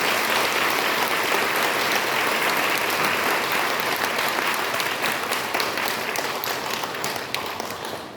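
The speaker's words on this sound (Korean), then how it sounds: "다시 한번 큰 감사의 박수로 맞이하겠습니다" A Korean ceremonial gathering applauds to welcome a speaker, thick steady clapping from a large audience, loud and close, tapering slightly near the end.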